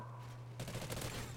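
A shotgun blast goes off in the Call of Duty: Ghosts video game, a sudden loud burst after a brief quiet hum, followed by a short rattling tail.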